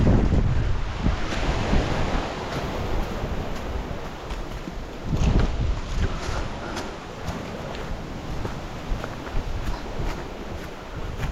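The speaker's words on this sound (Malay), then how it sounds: "air terjun." A small waterfall in a forest gives a continuous, rushing splash of water close by, with gusty bursts of wind noise buffeting the microphone and no talking.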